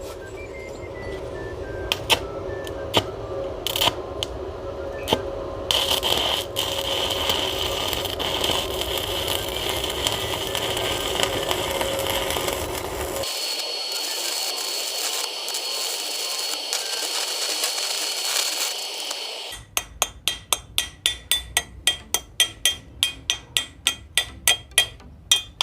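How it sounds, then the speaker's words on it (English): An inverter arc welding machine lays beads on metal with a steady crackling buzz, broken by sharp clicks and taps, then a stretch of high hiss and a fast train of sharp, rhythmic hammer-like strikes at the end. "So we're just going to do more welds"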